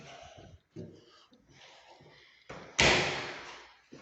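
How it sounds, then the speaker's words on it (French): Doors opening and closing in an apartment for rent in Montréal, with soft knocks and thumps and then one loud slam near the end. Indoors and close, with a little faint talk around it. "Les portes."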